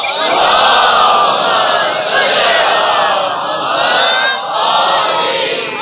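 A large crowd loudly chants salawat in unison at a religious gathering, voices rising and falling in sustained waves that fill the space.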